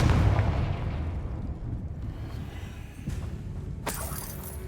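A Confringo fire spell bursts in the Hogwarts Legacy video game, a dense rumbling blast that fills the scene, then a sharp crackling burst near the end over a steady low roar.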